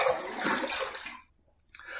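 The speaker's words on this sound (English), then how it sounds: "Let's rinse." Running water gushes close by for about a second as a Shlyuz Emperor safety razor from Poland is rinsed after a shaving pass, then cuts off briefly before a short splash resumes.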